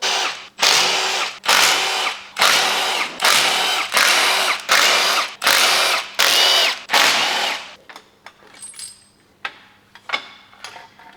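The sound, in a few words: power tool removing Audi R8 V10 camshaft carrier bolts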